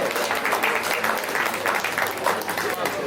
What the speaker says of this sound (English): Dr. Sally Nkem Aduku Bolu Joko, OON, CNIM, a louder warm of applause.